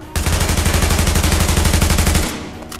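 An AUG rifle in The Division fires a sustained, rapid full-auto burst lasting over two seconds, each shot a sharp crack in an even rhythm, close and loud, then cutting off into a brief fading tail.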